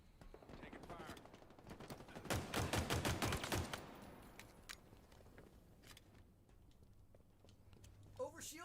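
Rapid bursts of automatic gunfire in Halo Infinite, a loud close volley in the middle followed by scattered single shots and footsteps at lower level, with brief voices in the background.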